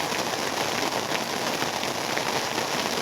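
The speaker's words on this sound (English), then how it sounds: "Good old summer rains. Well, spring rains at least." Steady spring rain falls in the mountains at a base camp, a dense, even hiss of drops on surfaces that holds at moderate loudness throughout with no voices.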